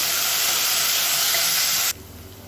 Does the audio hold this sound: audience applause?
no